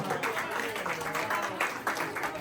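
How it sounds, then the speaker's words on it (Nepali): An audience at a Nepalese New Year 2083 party in South Cerney, UK, claps in a dense, steady burst of applause that stays close and fairly loud for the whole stretch, with a few sharper swells. "थपडी ताली"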